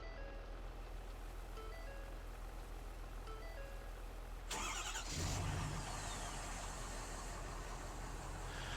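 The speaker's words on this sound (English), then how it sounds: "I'm gonna swap out the sound of this truck with the sound of the other Super Duty I have and see if it gets rid of that starting sound" A Ford Super Duty pickup truck in Farming Simulator cranks and fires up partway through, its engine catching with a sharp burst and then settling into a low, steady rumble over a constant background hum.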